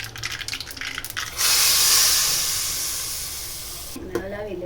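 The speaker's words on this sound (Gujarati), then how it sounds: "ગેસ બંધ કરી આ વઘારને આપણે કઢીમાં નાખી દઈશું" Hot ghee tempering of mustard seeds, cumin, asafoetida, cloves and a cinnamon piece poured into kadhi gives a sudden loud, steady sizzle that slowly fades over a few seconds. Faint clatter comes before it and a voice speaks at the end.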